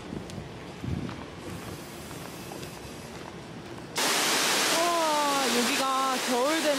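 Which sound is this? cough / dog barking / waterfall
waterfall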